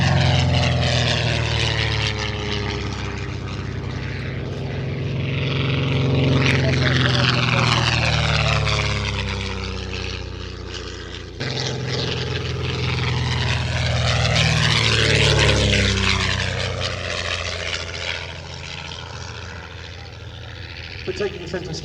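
A propeller aircraft flies past at the Shuttleworth air show, its engine drone swelling and fading with shifting pitch sweeps as it passes, while a commentator talks over it.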